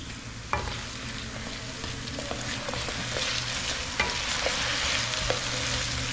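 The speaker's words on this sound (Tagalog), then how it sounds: "Atin na naprito yung carrots tapos yung patatas." Carrots and potatoes frying in a pan, a steady close sizzle broken by occasional sharp clinks and scrapes of stirring, with no talking.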